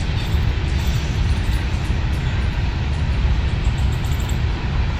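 A train passes outside, heard as a steady, loud rumbling roar with continuous low mechanical noise throughout and no talking.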